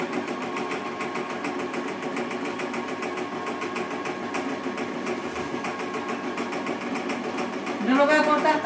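A sewing machine stitches work uniforms with a continuous rapid mechanical whir and a rhythmic needle clatter, changing briefly near the end, with no talk over it.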